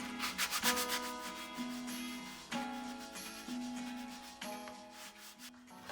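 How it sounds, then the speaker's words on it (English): Steady back-and-forth sanding over painted flowers on a thrifted piece of wooden furniture, a loud raspy rubbing in repeated strokes with brief pauses, close and continuous. "We do need to sand over the flowers to make sure we get our coverage that we needed so it does not bleed through."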